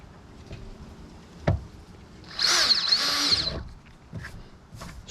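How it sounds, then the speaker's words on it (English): A power drill whirs loudly for about a second, high and grinding, drilling through a kayak hull, between a few quiet knocks and handling sounds. "We're just going to drill through right here."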